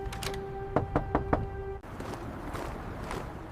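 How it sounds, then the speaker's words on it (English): Four sharp knocks on a door in quick succession, close and loud over a steady tonal hum, followed by quieter ambient noise. "Jack started knocking on doors"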